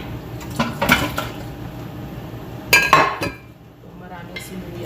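Raw meat tossed into a hot pan of sizzling onions, with clinks of a metal utensil against the pan in two clear bursts over a steady low background, and a voice speaking briefly.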